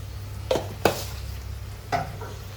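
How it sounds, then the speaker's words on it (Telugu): Chicken fry with pepper powder being stirred in a pan: three scraping clinks of a spoon against the metal pan, close and fairly soft, over a low steady hum. "ఇదిగోండి కలుపుదాం ఒకసారి"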